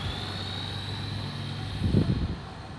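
A Redcat Dukono 1/10 scale 4x4 brushed electric RC truck runs at full throttle, giving a steady whining motor drone that swells briefly near the end, with no talk.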